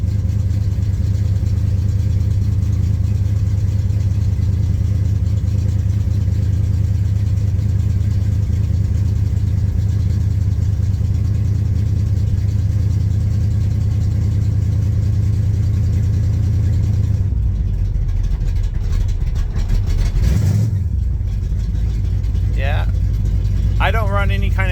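A 1965 Chevelle with a big cam and a Holley 750 double pumper idles loudly and roughly after a cold start with no choke, a constant low rumble with a brief change near the end.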